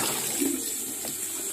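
Water pours onto corn and other vegetable plants in a home garden in Nagaoka, Japan, a steady splashing trickle at close range that holds evenly for the short stretch without talk.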